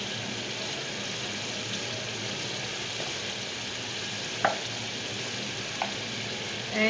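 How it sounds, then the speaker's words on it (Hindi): Spices with salt and turmeric frying in a pan, a steady bright sizzle throughout with a couple of sharp scraping clicks from stirring. "हमें थोड़ा सा ही भूनना है।"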